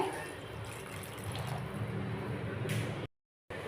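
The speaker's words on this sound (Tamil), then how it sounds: "தண்ணி வந்து ஒரு அரை டம்ளர் செத்திக்கலாங்க" Water pours into a cooking masala for garlic kulambu, a steady splashing and trickling sound close by, broken by a short silent gap near the end.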